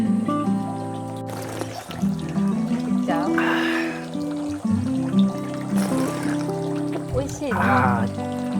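Cold water trickles and splashes as hands are washed at a temple in Japan, a light running patter mostly under close, continuous conversation.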